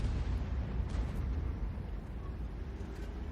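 FV207 artillery in World of Tanks firing a round over a rock face: a dense, rumbling low boom that sustains through the clip, loud and broad with no talk.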